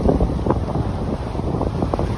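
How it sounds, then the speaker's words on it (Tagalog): Waves crashing and churning water at a Boracay beach under strong wind buffeting the microphone, a steady loud roar with no voices. "Ang hampas ng alon."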